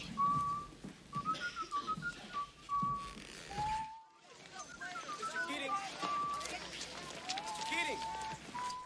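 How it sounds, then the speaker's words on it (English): A man whistles a Tchaikovsky overture melody as a schoolteacher in a film, a clear, steady line of notes with a brief pause midway, over faint background sound and movement. "Keating whistles Tchaikovsky's Overture"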